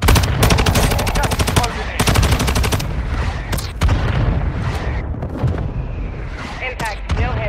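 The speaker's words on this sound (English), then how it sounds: "Mortar strike inbound now." Mortar strike explosions and heavy gunfire in the mobile battle royale game Call of Duty Warzone Mobile, loud dense bursts and rapid automatic fire filling the clip with repeated booms, game voice chatter mixed in.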